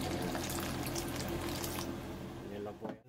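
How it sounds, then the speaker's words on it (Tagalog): Water pours steadily from a tap into a pot of mixed mung beans for boiling, a short, continuous splashing stream that trails off at the end. "lalagyan na po natin ng tubig at papakuluan na po natin hanggang sa lambot ng lambot yan"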